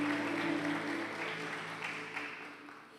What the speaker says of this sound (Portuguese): Será que você pode aplaudir o Senhor novamente?